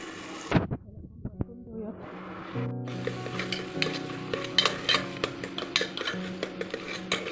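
Ground masala paste hits hot ghee and is stirred with a utensil, a steady close sizzle with scraping and clinks against the pan following a sharp initial clatter; a voice speaks intermittently over it.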